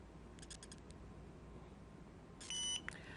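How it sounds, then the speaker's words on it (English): A short electronic beep from a TST 507 series tire sensor tool sounds near the end, preceded by a few faint clicks, against a quiet background hum. "push the set button and hold it down until it beeps."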